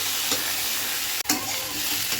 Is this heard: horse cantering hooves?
no